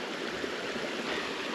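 Cold mountain spring stream water rushes steadily over feet on the Appalachian Trail, a close, continuous, even babble with no pauses.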